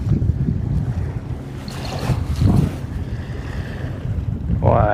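A motor boat running close to the shore on the ocean makes a low, steady engine drone. Wind buffets the microphone and surf washes in the background, and a faint rising whine comes near the end.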